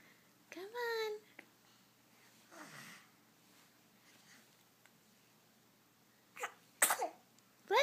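A baby sneezes during tummy time: a few short, faint bursts, one early and another near the end, separated by quiet stretches with small snuffly breaths.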